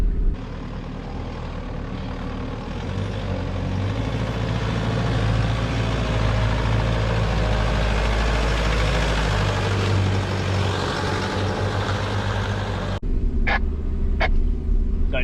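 A 4x4 crawling up a slope in the rain in the Glasshouse Mountains, its engine a loud, steady low rumble that builds slightly partway through, then a few sharp clicks or knocks near the end.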